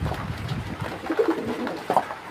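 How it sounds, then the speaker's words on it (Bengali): Paired domestic pigeons coo softly and close by, two or three low throaty calls over faint background rustle. "এগুলো আমার সব জোড়া জোড়া কবুতর"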